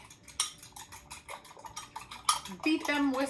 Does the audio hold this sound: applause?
no